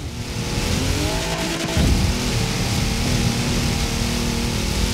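Car in Forza Horizon 4 leaving the highway, a loud continuous engine roar with tire squeal and a gear-shift bump partway through.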